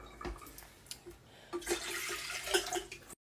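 Tap water running into a kettle, an uneven splashing and gurgling stream that swells and fades over a few seconds, close and fairly quiet, then cuts off.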